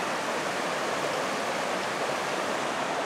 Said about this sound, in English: as I cross Ranger Creek here.